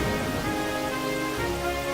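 Steady rain from the Pokémon White video game, a dense even hiss with a faint musical tone underneath, holding constant throughout.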